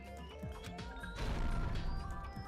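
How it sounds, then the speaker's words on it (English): A body hits a pillar after a fall from the fourth floor to the first in a funhouse in the Danganronpa 2 video game: a heavy crash about halfway through, over game music, with a rumbling echo after it. "The sound of Nekomaru's impact echoed throughout the funhouse."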